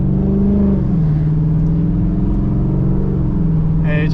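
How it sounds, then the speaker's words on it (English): A car engine with a new aftermarket exhaust rumbles and revs steadily up close, its low throaty exhaust note rising and falling slightly, with a brief higher noise at the end. "since I just got my new exhaust"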